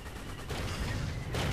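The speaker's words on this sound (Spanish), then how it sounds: "ahí vemos cómo van los tanquecitos avanzando, haciendo sus disparos" Tank cannons fire in a desert battle in the strategy game Panzers 2, a dense, steady rumble of repeated gunfire bursts and explosions running through the short stretch, loud and continuous.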